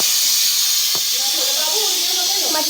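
Pressure cooker on a gas stove hissing steam while cooking matki (moth beans), a steady broad hiss running throughout, with faint voices and chatter underneath.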